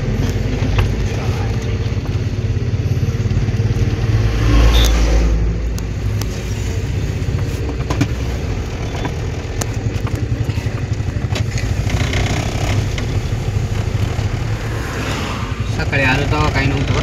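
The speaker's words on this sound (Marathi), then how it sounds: "हा ट्रॅफिक लागली" Road traffic on the Chandawad Ghat mountain road in monsoon: a continuous rumble of cars and motorbikes passing nearby, with voices faintly under the engine noise.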